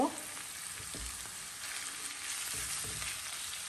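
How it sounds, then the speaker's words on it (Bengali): Noodles stir-fried in oil with onion and garlic give a steady close sizzle, broken by soft scraping and tossing of the pan, with no voices. "এখন আমি আমার নুডলসটাকে ঢেলে দিব। ঢেলে একটু নাড়াচাড়া করে নিব।"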